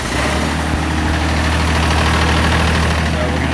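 A Ventrac compact tractor engine idles steadily and loudly up close, a continuous low rumble with no breaks and no talk.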